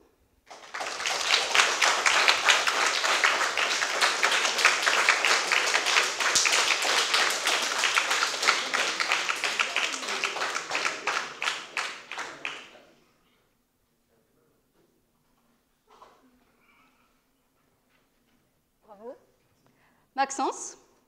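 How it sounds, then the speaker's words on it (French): A crowd at a student eloquence contest gives loud, dense applause for about twelve seconds before it stops abruptly, followed by near silence and a few faint, scattered sounds. "veuillez les accueillir avec de grands applaudissements"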